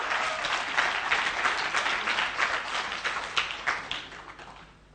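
Sustained audience applause at a live event, dense steady clapping from a crowd that swells and then tapers off toward the end.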